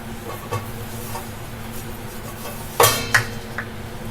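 A plate handled in a kitchen while its back side is oiled, with a few light clinks and one sharper metallic clatter over a steady low hum, close by.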